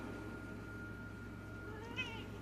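A house cat of almost seven gives one short, faint meow near the end, over a steady low hum in an indoor room.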